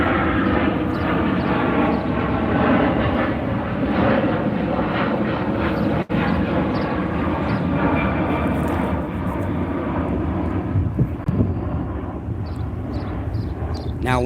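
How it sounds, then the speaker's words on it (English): A fixed-wing aircraft passes overhead, its broad, steady engine roar filling the whole stretch at high loudness with no gaps, dominant and continuous throughout. "I'm gonna let this plane pass."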